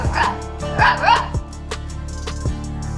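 A Rajapalayam dog barks several times close by, sharp yelping barks spaced irregularly, with whimpering tones between them.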